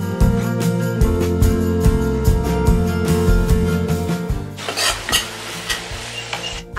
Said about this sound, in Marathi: हा कांदा आपण चांगला गुलाबी होईपर्यंत भाजून घ्यायचा